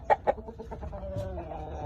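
A fighting rooster gives two sharp clucks close by, followed by quieter, softer sounds from the bird.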